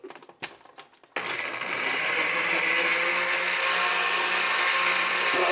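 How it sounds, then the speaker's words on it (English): A blender whirs into a loud, steady grind mixing a whey protein shake, starting after a few short clatters and holding a constant high-pitched motor roar to the end. "And then what I like to do is start blending my shake."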